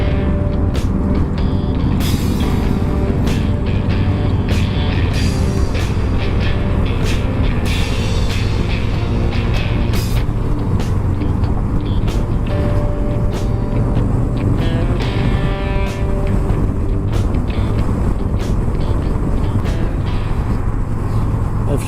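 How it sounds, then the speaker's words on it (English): Several Harley-Davidson motorcycles ride past on a road in Quebec, a loud, dense, continuous engine rumble filling the whole stretch with low throbbing and occasional sharper revving bursts. "There are some people riding the Harleys."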